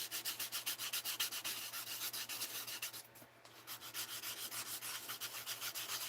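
Rhythmic rasping strokes of an emery board sanding acrylic stamps, quick back-and-forth scrubbing close to the mic, fairly quiet, with a brief pause midway and no talking.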